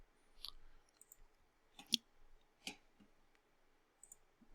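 A few sparse, quiet mouse clicks on a hyperlink, two sharper clicks standing out among faint taps in a quiet room.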